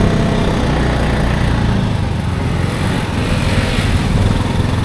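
A Polaris side-by-side engine running at an off-road riding area, a loud, close, steady mechanical drone with a constant throbbing hum and no voices.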